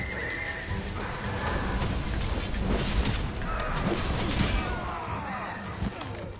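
Loud, close horse whinny from a video game, with hooves clip-clopping and pounding in a galloping rhythm and a busy game soundscape around them.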